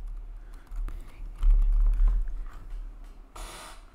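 Sparse typing on a computer keyboard while editing text, scattered soft key clicks over faint low rumble, ending in a short, louder burst of rustling.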